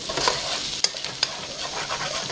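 Quail meat sizzles loudly in a pan with a little water, a constant hissing crackle with a few sharp pops and scraping stirs, up close.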